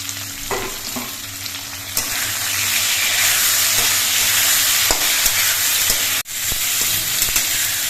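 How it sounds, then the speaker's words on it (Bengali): Chopped tomato drops into a pan of potatoes already frying in oil, and the sizzle swells into a loud, steady hiss with scattered clinks of stirring and a brief break near the end. "আলুগুলো আমি কিছুক্ষণ ভেজে নিয়েছি এবার এর মধ্যে আমি টমেটো কুচিটা দিয়ে দিচ্ছি"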